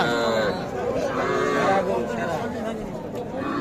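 Young Sahiwal cattle, including a heifer, low in a busy village cattle market, their calls rising over crowd chatter and nearby voices for several seconds.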